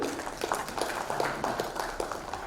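An audience at an awards ceremony applauds the guests on stage, a dense, steady wash of many hands clapping at moderate volume from start to finish.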